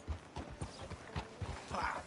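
Horse hooves clip-clop in a steady, rhythmic gait in the video game Red Dead Redemption. The hoofbeats are close and moderately loud, with no talking.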